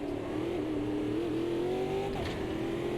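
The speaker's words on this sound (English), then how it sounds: "These V8 supercars also sound amazing" A V8 supercar engine in the racing simulator Automobilista 2 roars steadily under load, its pitch rising, dipping briefly and climbing again, loud and continuous with no talking.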